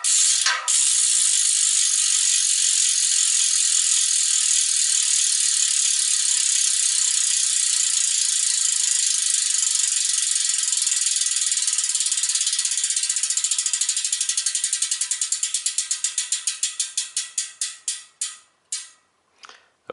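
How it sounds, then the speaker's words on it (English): Carbon bicycle rear wheel freehub pawls ratcheting loudly as the wheel spins, a dense steady buzz of clicks that slows toward the end into separate, widening clicks as the wheel coasts down, alone with no talk. "it seemed like a lot of resistance was coming from the loud ratcheting of the inner pawls"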